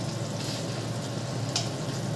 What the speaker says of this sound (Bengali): এবার আমি মশলাটা ভালো করে কষাবো